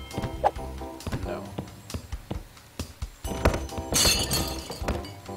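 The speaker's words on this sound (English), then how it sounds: "Alright, we have to just break a lot of glass." Glass shatters in the Christmas Shopper Simulator video game, with several sharp crashes and one loud, bright breaking burst near the end. A voice can be heard around the crashes.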